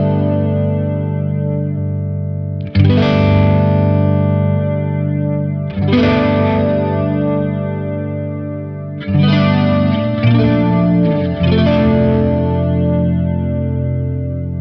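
A BOSS Dimension DC-2w chorus pedal colors guitar chords with a thick, warm, wide chorus. Three strummed chords ring out loud and sustained, with no voices.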